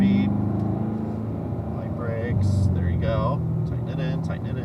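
Car engine accelerating on an oval track, a steady rumbling drone that rises in spots under continuous talk from a voice giving driving instructions.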